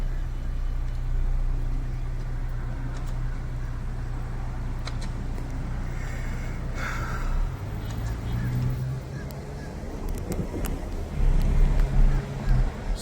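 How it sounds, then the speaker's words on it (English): A car drives through Little Havana in Miami, with a steady low engine and road rumble in the cabin that swells louder near the end. A voice talks over the drive. "We're gonna keep driving."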